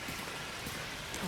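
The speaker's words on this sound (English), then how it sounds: "it is a little bit of a showery rain, not much" Light showery rain falling steadily outdoors around a gazebo at night, a soft continuous patter with faint scattered drops and no voices.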